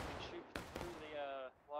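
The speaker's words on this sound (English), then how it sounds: "Fire at will. Firing by platoon. Take aim." Musket volley from a platoon in the Civil War game War of Rights, sharp broadband gunfire bursts in quick succession amid battlefield din, with voices shouting commands over the shots.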